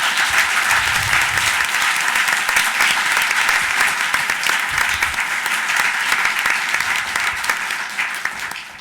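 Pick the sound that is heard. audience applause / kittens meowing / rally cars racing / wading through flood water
audience applause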